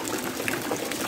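Rainwater pouring into a backyard water tank during rain, a dense continuous splashing and gurgling rush close by with no talking.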